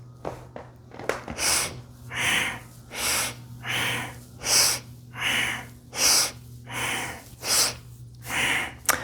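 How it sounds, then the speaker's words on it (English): Powerful rhythmic breaths through the nose in a breathing exercise, about ten loud, close, evenly spaced whooshing inhales and exhales over a low steady hum. "powerful breath through the nose"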